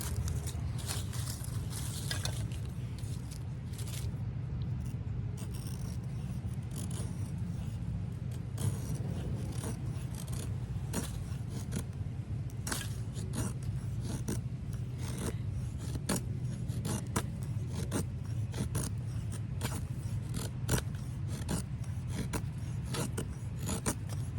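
A knife prototype carving into wood, working at a knot, giving repeated short scraping, chipping strokes in a steady rhythm, close and fairly loud against a constant low background rumble, with no talking.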